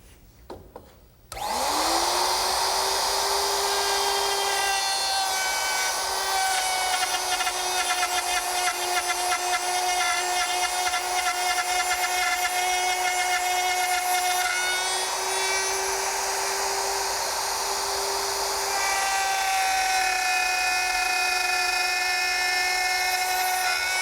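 A router fitted with a dovetail bit and guide collar cuts tails in wood for a Shaker step stool, starting with a rising whine and then holding a loud, high steady scream that shifts pitch as it bites.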